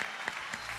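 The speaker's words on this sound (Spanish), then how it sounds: "rendirle este aplauso" An audience at an awards ceremony applauds an award recipient in a brief, steady wash of clapping with a few louder claps standing out.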